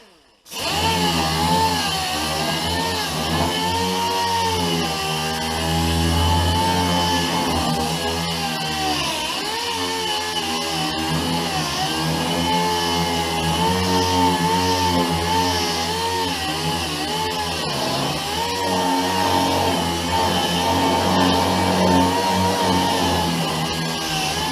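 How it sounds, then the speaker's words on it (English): A power sander with 220-grit paper whines loudly and continuously on a Chevy S10 truck bed, its pitch wavering slightly as it works across the surface, with no talking. "I'm gonna start sanding with 220."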